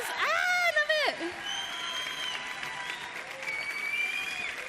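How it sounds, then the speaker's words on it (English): A voice talks loudly over a crowd clapping, the applause steady and moderately close, continuing throughout. "Big round of applause."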